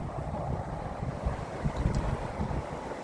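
Steady gusty wind buffets the microphone with a low, rumbling roar throughout, no voices, just continuous outdoor blustering.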